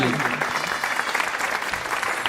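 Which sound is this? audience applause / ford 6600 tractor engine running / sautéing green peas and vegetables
audience applause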